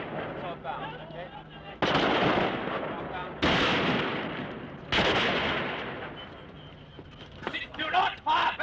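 Bursts of gunfire during the Bogside shooting in Derry, several loud sharp cracks at roughly one-and-a-half-second intervals, each trailing into a rough echoing roar, with a chaotic crowd and distant voices underneath.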